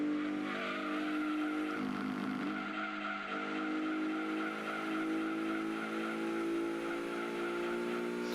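A race car lapping a track in Gran Turismo 2 drones along with a steady, buzzing engine note, holding a constant pitch that shifts slightly midway, with no talking.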